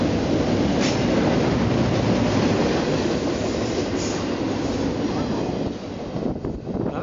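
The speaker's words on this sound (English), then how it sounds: "that's what you call a train." A two-mile-long double-stacked freight train rolls through Banff, Alberta, a steady, close, loud rumble and rattle of wagons that holds for the whole stretch and eases slightly near the end.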